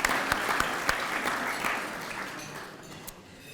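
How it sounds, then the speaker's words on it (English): Applause at a college Hall of Fame induction ceremony honoring the culinary arts program: a room of hands clapping in a steady dense patter, a few sharp near claps standing out, gradually tapering off. "so let's give them a big round of applause."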